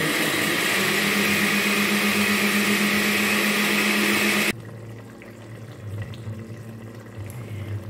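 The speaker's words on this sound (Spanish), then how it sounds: "Vamos a licuar el verde" A kitchen blender whirs loudly, blending a green seasoning for albacore tuna bollos, with a steady motor drone for about four and a half seconds before cutting off abruptly, leaving a quiet room.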